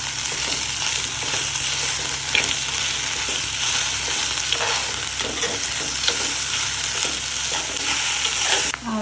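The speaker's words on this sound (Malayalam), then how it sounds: "നമ്മുടെ ഈ ഉരുളൻകിഴങ്ങും പിന്നെ വെണ്ടയ്ക്കയും കൂടിയിട്ടുള്ള മിക്സിട്ട് നന്നായി ഇളക്കി യോജിപ്പിച്ച്" Potato and okra stir-fry being stirred in a pan, a steady close scraping and rustling over a continuous sizzle, with occasional sharper spatula knocks and no talking.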